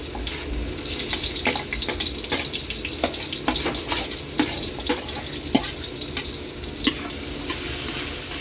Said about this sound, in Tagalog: ilagay na natin yung bawang. Lagyan natin yung sibuyas.